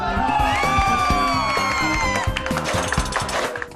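A television studio audience claps and cheers after an answer on a quiz show, loud and dense, with whoops and shouts over a bouncy music bed before the clapping thins out.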